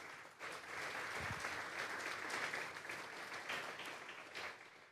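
A church congregation at a Sunday service claps in sustained, moderately dense applause that rises quickly after a brief pause and carries on evenly, heard from a little distance in a reverberant hall.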